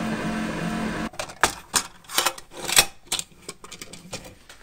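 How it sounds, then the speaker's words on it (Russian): A 3D printer prints the next layer of a repair part for a child's toy, a steady motor hum giving way to irregular rapid clicking and rattling bursts, close by. "Ну и печатается следующий слой."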